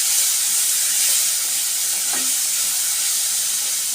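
Onions and tomatoes sautéing in a pan for mutton curry, a steady close sizzle and hiss with a brief stirring scrape partway through.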